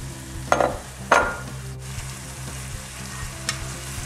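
Low-carb noodles are stirred into bolognese sauce in a pan, a soft continuous sizzle broken by a few scraping utensil strokes against the pan, close and without talk.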